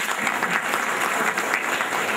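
Sustained applause from a church congregation honoring birthdays at Mass, a thick even wash of many hands clapping without pause, fairly loud and uninterrupted.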